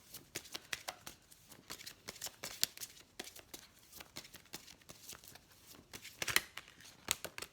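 Tarot and angel oracle cards are shuffled and drawn at close range, a steady run of crisp riffling snaps and papery flicks with no talking.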